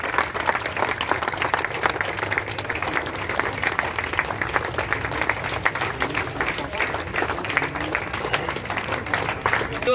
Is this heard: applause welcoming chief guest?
yes